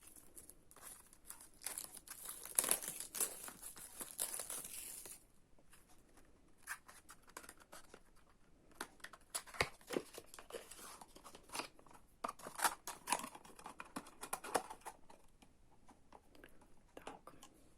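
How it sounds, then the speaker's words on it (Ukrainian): Packaging of cosmetic face patches with seaweed is opened by hand, producing quiet, close crinkling, rustling and sharp tearing snaps in irregular bursts. "Зараз відкрию, подивимося саму упаковочку."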